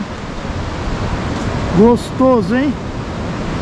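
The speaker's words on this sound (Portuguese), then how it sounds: "Mostrando surfista, olha as ondas." Broadband surf of ocean waves at Perequê-Açu beach in Ubatuba, a steady wash throughout, with a person speaking briefly over it midway.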